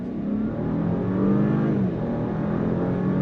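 A 2025 Audi Q7 55 Prestige pulls away from a dead stop, its engine droning steadily and building through a brief dip as the 8-speed automatic shifts, heard from inside the cabin.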